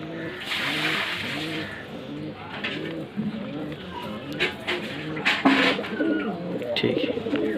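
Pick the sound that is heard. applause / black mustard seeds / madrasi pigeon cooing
madrasi pigeon cooing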